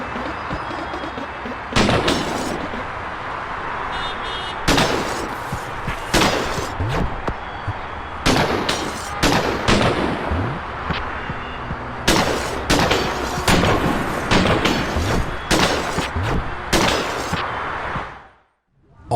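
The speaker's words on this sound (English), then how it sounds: "Now let's take a look at what happens when you shoot a mirror with a shotgun." Shotgun blasts shatter a mirror in the video game Lazr, a string of sharp, loud booming reports with irregular gaps between them over a steady game ambience, ending in a short drop to silence.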